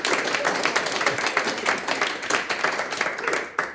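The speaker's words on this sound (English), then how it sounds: "Big round of applause." A studio audience applauds for a game-show contestant, a dense steady patter of many hands clapping that carries on for several seconds, close and loud, with no talk over it.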